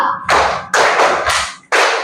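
Four loud, sharp group claps in a steady rhythm from a classroom clapping game, close and with no talk over them.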